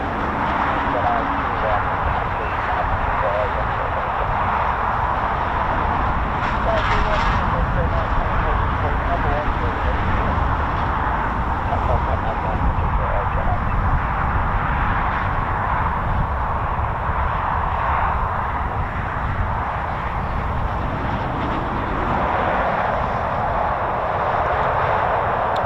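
A military aircraft departing or taxiing at RAF Waddington, a broad distant jet roar that swells and lingers steadily beneath ongoing conversation.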